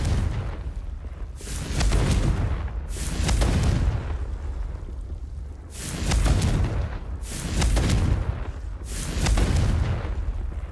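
Confringo, the explosive spell from Hogwarts Legacy, sounds as a series of loud, booming blasts with long rumbling tails, repeating roughly every couple of seconds, with no talk.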